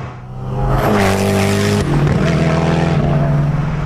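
Koenigsegg Agera R supercar braking hard to a stop, a loud close engine roar with a falling pitch sweep and gear changes as the car decelerates, with no talk over it.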